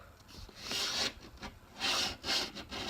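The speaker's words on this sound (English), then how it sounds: "I'm going to go along the edge of my table" A thick, curled playing card scraped along the edge of a table in a few rough rubbing strokes, close and dry, with short pauses between passes.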